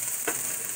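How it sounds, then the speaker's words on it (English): Ham sizzling as it reheats in a frying pan for a breakfast scramble: a steady, soft frying hiss with a brief scrape of stirring near the middle. "so now I've got my ham. It's all heated up. You can kind of hear it sizzling."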